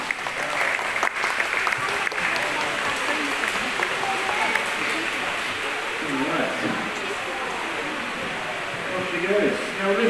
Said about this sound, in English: Well done, guys. Let's give them a clap.